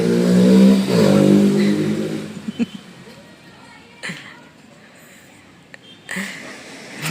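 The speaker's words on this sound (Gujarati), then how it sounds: "બુલેટનો અવાજ આવ્યો" A Bullet motorcycle passes outdoors at night, its loud, deep engine thrum dominating the first two seconds before quickly fading away, leaving a quiet background with a few faint clicks and distant voices.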